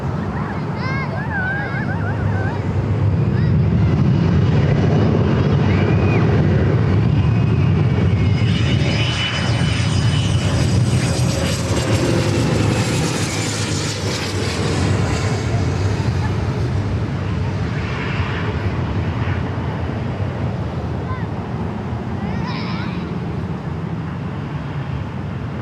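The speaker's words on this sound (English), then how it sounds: "Southwest flight lining up there, 24 left" A Southwest Airlines jet lines up on runway 24 left at LAX, its engines producing a loud, broad roar with whining tones that swells early and holds steady, heard from moderate distance with wind noise and occasional talk.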